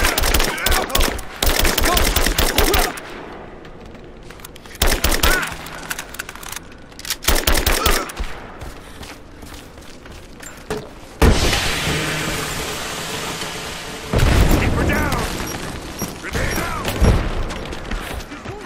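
Gunfire in Rise of the Tomb Raider rattles in repeated loud bursts of rapid shots with short pauses between, plus some heavier booms. A voice shouts commands between volleys.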